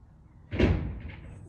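A single solid knock from a carpenter working on a house repair next door, heard as one sharp thud at a moderate distance over faint ambient noise.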